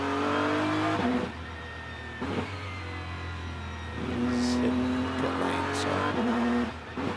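A GT race car on the Indianapolis road course accelerates hard through its gears, the engine note climbing and dropping with each upshift in a steady, loud onboard drone.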